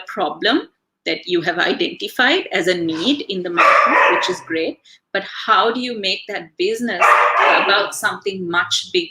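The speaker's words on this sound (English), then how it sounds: "I'm sorry about the dogs, my dogs are singing in the background" Several pet dogs bark and howl in a sing-song way in the background of a home setting, mostly buried under a man's continuous speech, with a few louder howling swells.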